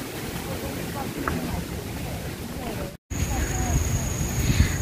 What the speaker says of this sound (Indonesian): Jadinya anginnya udah mulai. Anginnya besar banget.